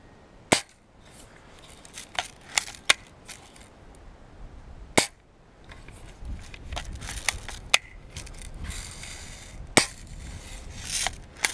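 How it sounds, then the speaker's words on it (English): Sharp gunshots crack out at a tree one after another at irregular intervals in below-zero Fahrenheit cold in New York, some louder and closer, over a faint background hiss. "let's shoot the tree"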